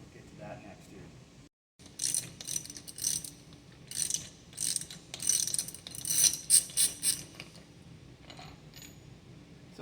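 A bolt comes off a dewatering press shaft with a run of metallic ratcheting clicks and clinks in short bursts, close and fairly quiet, with a brief gap near the start.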